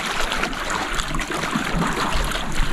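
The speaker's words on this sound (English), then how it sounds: "Very peaceful, you can hear the waves under the rocks here" Ocean waves wash and gurgle under rocks on the Eyre Peninsula coast, a close, continuous sloshing and trickling of water with soft surges, loud and unbroken with no voices.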